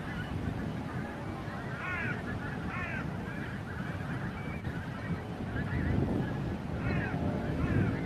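Geese honk in scattered bursts over estuary mud flats at Montrose Basin, several distant calls rising above a steady wash of wind and ambient noise.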